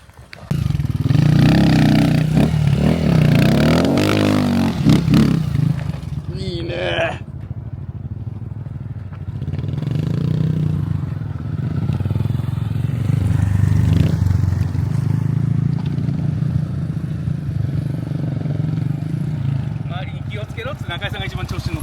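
An off-road motorcycle on a trail at Sagamihara, Japan, its engine revving and rasping loudly at first, then running lower beneath ongoing voices talking.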